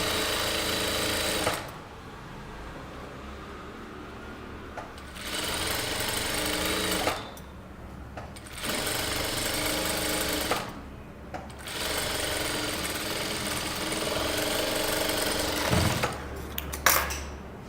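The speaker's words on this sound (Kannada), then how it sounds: "ಸೊ ಎಕ್ಸಾಕ್ಟ್ಲಿ ಲೈನಿಂಗ್ ಕಾರ್ನರಲ್ಲಿ ಸ್ಟಿಚ್ ಮಾಡ್ತಿದ್ದೀನಿ" Sewing machine stitching the lining corner of a boat neck kurta, running in several long bursts separated by short pauses, close and steady.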